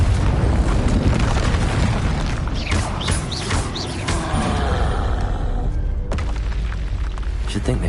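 An explosion spell goes off in a Hogwarts wizarding video game. A loud, sustained roaring blast with deep rumble is followed by crackling debris, then cuts off sharply near the end before a fainter tail.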